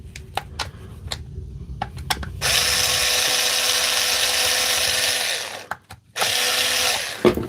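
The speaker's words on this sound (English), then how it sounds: "Let's get these screws out" A power tool backs screws out in a loud sustained whir lasting a few seconds, cuts off briefly, then spins up again, preceded by scattered clicks and handling knocks.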